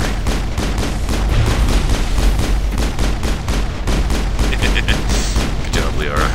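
Sustained firefight in Mass Effect, with dense rapid gunshots cracking in a steady rhythm throughout, loud and close, and brief voice fragments toward the end.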